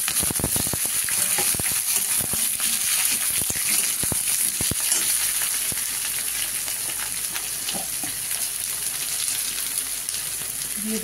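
Eggplant and neem leaves fry in a hot pan, giving a steady, loud, dense sizzle. Sharp crackles and pops come through it, heaviest in the first five seconds, and no one speaks.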